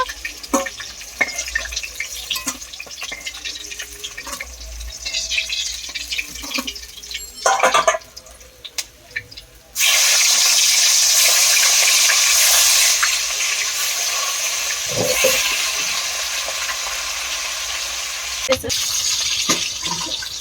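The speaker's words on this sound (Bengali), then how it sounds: "বাকি মাছগুলো এইভাবেই লাল লাল করে ভেজে আমি নেব" Whole fish sizzling and spattering in hot oil in a pan, with a steady hiss that swells loud partway through and runs on under occasional talk.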